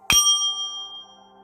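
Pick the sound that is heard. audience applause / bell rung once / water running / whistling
bell rung once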